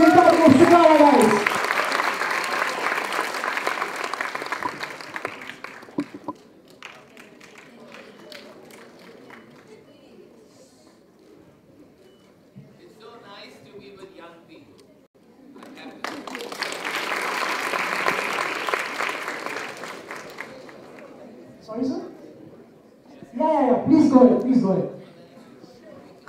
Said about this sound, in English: Let's have a round of applause for the top of Shikara guys.